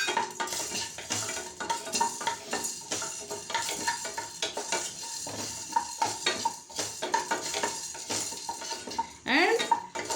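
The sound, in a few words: peppercorns frying in a pan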